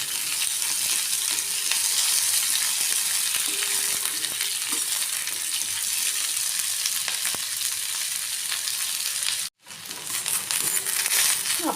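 Sesame seeds, cashews and almonds fry in hot oil with a steady, loud sizzle and occasional crackles, broken by a brief drop near the end before the frying resumes.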